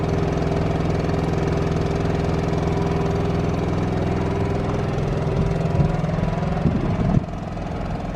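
A propane Onan Cummins QG 2500i LP RV generator runs under load from a 1500-watt space heater, heard from the side of the parked RV. It makes a steady, even mechanical hum that never changes, with no talking.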